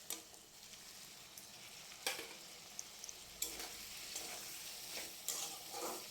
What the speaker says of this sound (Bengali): তো দিয়ে দেওয়ার পর আমি এটাকে ভালো করে নাড়াচাড়া করে নিচ্ছি